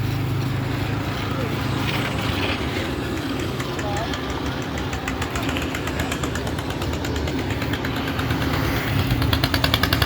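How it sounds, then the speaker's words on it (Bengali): A boat's engine chugging steadily as it passes under a bridge at a fishing harbour, a loud low rumble with rapid knocking pulses that grows slightly stronger toward the end. "এই যে ব্রিজের তল থেকে একটি বোট যাচ্ছে।"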